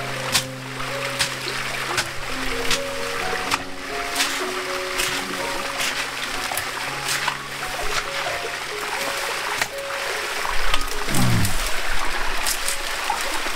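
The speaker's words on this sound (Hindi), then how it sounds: "यहाँ से आते हमारा पानी बिल्कुल पहाड़ की घाटियों से" A mountain stream runs down from the valleys in a steady, even rush of water, with a brief louder splash near the end.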